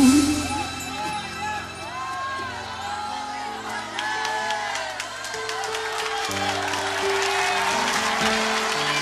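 A church congregation at a live worship service applauds loudly, a dense sustained clatter of many hands with cheers and whoops mixed in, under sustained music throughout.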